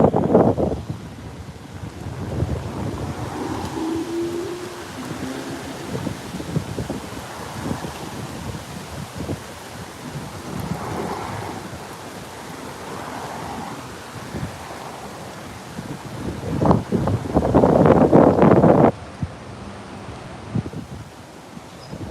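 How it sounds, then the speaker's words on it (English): Strong outdoor wind buffets the microphone on a street in Fall River, Massachusetts, near a church, a rumbling gusty roar rising and falling throughout and peaking in a loud blast near the end, no talk. "And the wind's kicking on"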